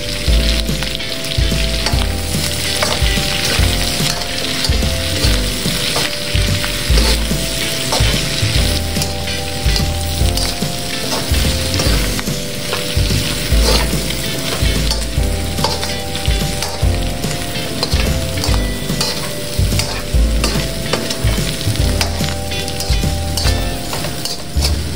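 Dinuguan frying in a pan while being stirred, a loud continuous sizzle with frequent clinks and scrapes of a spoon against the pan.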